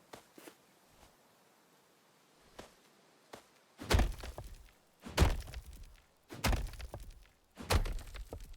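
Pickaxe striking rocks in the video game Muck: a few faint taps, then four loud, heavy thunking hits in an irregular rhythm, close and alone.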